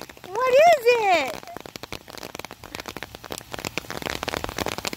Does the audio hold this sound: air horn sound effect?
no